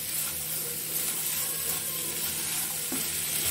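Cluster beans being stir-fried in a pan for a spicy Marathi-style sabzi, a steady sizzle with faint stirring scrapes running continuously, no talking.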